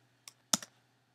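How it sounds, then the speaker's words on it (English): A few quick keystrokes on a computer keyboard, typing the make command: one light tap followed by a louder pair of clicks, close and dry against a quiet background. "All you do is type make"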